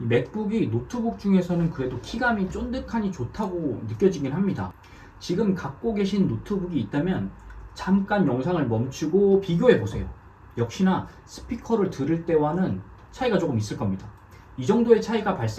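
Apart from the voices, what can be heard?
No everyday noises stand out.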